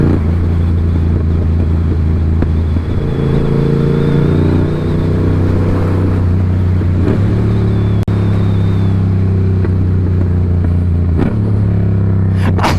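A motorcycle engine revs and drones loudly while riding, with its pitch climbing and dropping between gear changes and a steady rumble throughout. No voices.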